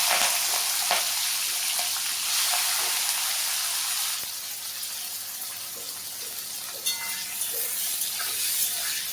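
Local country shrimp drop into hot oil in a wok already seasoned with panch phoron, giving a steady, loud, close hiss of frying that runs unbroken and alone, easing slightly partway through.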